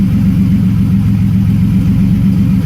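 A built 3400 turbo V6 swapped into a Pontiac Fiero with a 3500 intake idles around 900 rpm, a steady low, even engine rumble heard close and loud with no talk.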